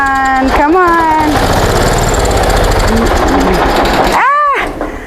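An old garden tractor engine that sat unused for five years cranks, catches and runs loudly and continuously, with rough knocking under the steady roar, while people talk excitedly over it.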